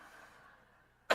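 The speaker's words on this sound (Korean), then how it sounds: "여러분들 아멘 소리 크게 하니까 기침이 나와버립니다." A preacher coughs once during a church sermon, a short, sharp burst after a stretch of near silence.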